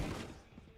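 Frenzy pistol shots fired during a competitive Valorant match: a brief, faint burst of gunfire that quickly decays into a low, fading game ambience.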